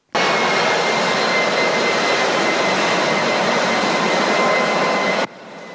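A jet airplane roars steadily and loudly for about five seconds, a dense, broad engine rush with a faint whine riding on top, then drops away suddenly to a quieter hum.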